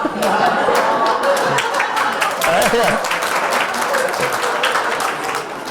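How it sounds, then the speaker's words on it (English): A room full of people bursts into loud, sustained clapping that holds steady for several seconds, mixed with laughter and a few voices murmuring underneath, before easing slightly toward the end. "You want to clap now?"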